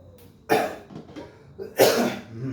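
Two harsh coughs, about a second apart, close and loud, with a softer throaty sound between them.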